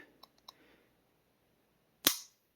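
A Rock Island FS 9mm pistol's trigger gives a few faint, small clicks as it resets, then one sharp, much louder snap of the trigger breaking, close and isolated in a quiet room.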